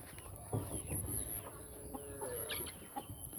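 A broody hen on a small backyard poultry farm clucks repeatedly in low, soft bursts, close and fairly quiet, with a few higher bird calls mixed in.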